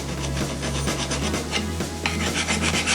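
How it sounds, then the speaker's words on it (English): A flat file scrapes rust off a brake caliper bracket in quick repeated rasping strokes, close and loud, with a steady low hum underneath. "Just kind of file the groove out a little bit."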